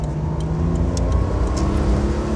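A 1994 Honda Beat Version Z, a tiny kei roadster, screams toward redline through the lower gears, its engine note rising steadily, loud and close from inside the cabin, with no talking.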